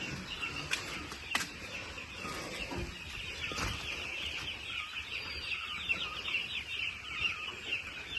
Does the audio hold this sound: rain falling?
no